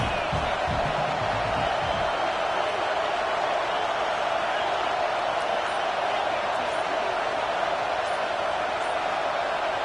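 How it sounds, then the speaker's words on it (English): Stadium crowd at a football game cheering and roaring as the home fans try to rattle the offense, a dense, steady wall of noise with commentary voices underneath. "This crowd trying to make life miserable for this offense."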